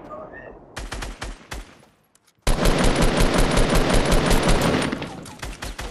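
Rapid automatic gunfire in a video game: a short burst, a brief pause, then a long, loud sustained stream of close machine gun shots that tapers off, with faint speech in the background.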